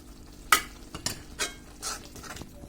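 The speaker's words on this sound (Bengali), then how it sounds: "এটাকে এখন অনবরত নাড়তে হবে।" A spoon is stirring tomato chutney with sugar, chilli flakes and lemon in a pan, making several distinct scraping strokes over a soft sizzle, close and fairly quiet, with no voices.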